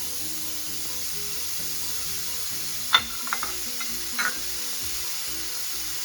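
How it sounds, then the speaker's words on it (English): Garlic, pineapple and onion saute in a skillet still holding the oil from blackened catfish, giving a steady close sizzle with a few louder spatters and stirring scrapes partway through. "We're gonna saute all this stuff together in the same skillet."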